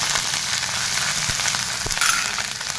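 Ginger, green chillies and curry leaves fry in hot oil with a steady, loud hiss and crackle, broken by a few sharp pops and the scrape of stirring.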